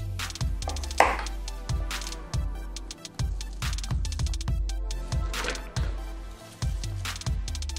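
A knife chops cabbage on a cutting board in quick, steady strokes, close and crisp, with no talking.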